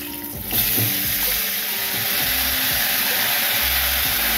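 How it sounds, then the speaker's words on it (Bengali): Vegetables fry in oil in a wok after being tipped in one by one, giving a steady, close hiss and sizzle that flares at the start and then holds evenly, with faint stirring scrapes and no talk. "এবার কড়াতে একটু তেল দিলাম, দিয়ে সবজিগুলো একে একে ঢেলে নিচ্ছি।"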